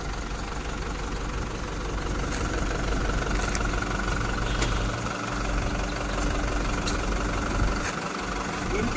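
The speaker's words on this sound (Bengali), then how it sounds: "জাস্ট গাড়ির ইঞ্জিনের আওয়াজটা শোনো" A 2021 car engine idles with a steady, low mechanical hum and faint ticking that runs evenly and close by for about nine seconds.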